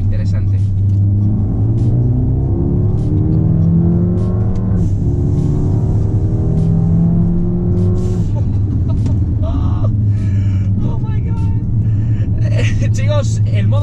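Mercedes-AMG A35 in Sport Plus mode accelerating hard, engine rising through rising sweeps with gear-change breaks and crackles, loud and close inside the car, a voice reacting over it.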